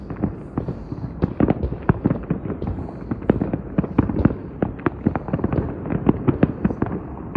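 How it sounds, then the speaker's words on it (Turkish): Dense, rapid bursts of rocket fireworks in the evening sky over Fethiye, Turkey, crackle and pop continuously, loud and near, with sharp overlapping bangs throughout. "roketiyle havayı şey yukarı çıkacak güm diye patlıyor komple yayılıyor"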